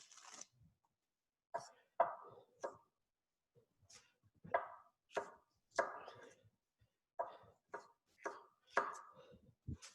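A knife chops vegetables into roughly half-inch-thick pieces in a chef's kitchen, giving a dozen or so crisp, close board knocks in uneven bursts with short pauses between them.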